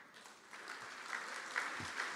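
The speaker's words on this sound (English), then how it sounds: "Big round of applause for Tem Name." Audience applause at the 2022 ICPC SWERC programming contest closing ceremony, a steady, moderately distant wash of clapping held for about two seconds with no voices over it.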